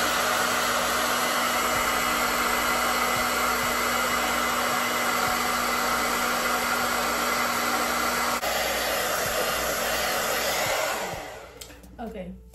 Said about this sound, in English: I'm gonna grab the blow dryer, I'm gonna put it on cool for 1 minute on my lace